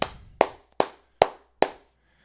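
Five crisp hand claps, evenly and slowly spaced about every half second, each ringing briefly in a quiet room with no voices.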